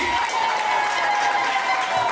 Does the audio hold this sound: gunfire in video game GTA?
no